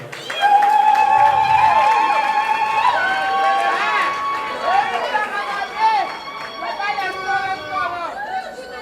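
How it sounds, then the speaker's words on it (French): Crowd applause and cheering welcome the groom at a wedding dance party, a sustained wash of claps under chatter and music-like tones, with voices talking throughout. "Sous vos applaudissements, s'il vous plaît."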